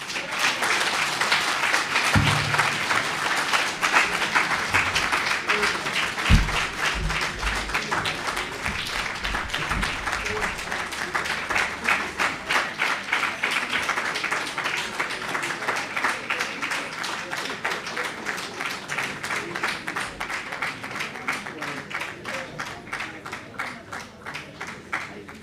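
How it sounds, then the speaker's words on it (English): Sustained applause from a large audience seated at a World Teachers Day celebration, a steady dense wash of clapping that fills the whole stretch, with a few louder claps early on and a slight fade toward the end. "a big round of applause as we're taking our seats"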